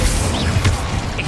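Casting the Incendio fire spell in Hogwarts Legacy gives a brief, loud, rushing burst of fiery noise lasting about a second inside a catacomb.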